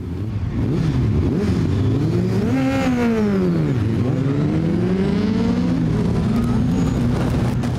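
A drag racing car on a drag strip roars loudly and continuously, its engine pitch climbing, dipping and climbing again as it revs.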